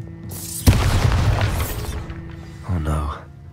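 A Bombarda spell exploding in Hogwarts Legacy, one loud close boom with a crackling, rumbling tail, followed by a short voice.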